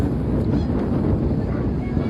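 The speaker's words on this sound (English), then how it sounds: "Alright, the wind is moving in. It is really windy." Strong wind gusting over a microphone beside choppy water, a steady loud rumbling roar with no other clear sounds.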